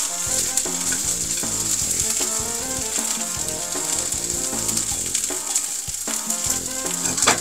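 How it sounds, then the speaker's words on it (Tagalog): Food sautés with dried shrimp in oil in a pan, giving a loud, continuous close-up sizzle with busy scraping and clinking from stirring throughout. "gisa po natin siya magkasabay nitong ating hipon na dry"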